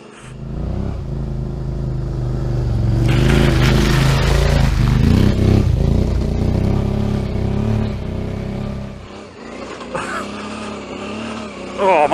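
Suzuki V-Strom motorcycle on a slippery off-road track, engine revving and rumbling loudly up close for most of the stretch with clattering over rough ground, then dropping off before a brief burst near the end.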